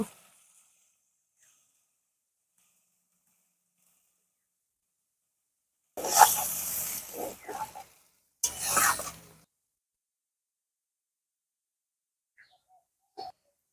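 Water is poured into sizzling fried spice paste in a pan for rohu fish curry, producing two short, loud bursts of hissing and bubbling separated by a brief pause, with near silence before and after.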